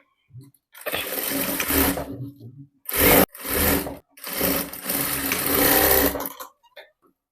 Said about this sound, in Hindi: अब यहाँ पे मैं सिलाई लगाऊंगी इसको